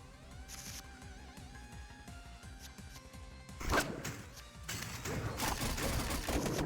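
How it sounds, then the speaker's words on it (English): Pistol shots ring out in the video game Vampire Crawlers, a quick cluster of sharp bangs over game music and effects, growing louder and denser toward the end. "It's just a gun. A pistol gun."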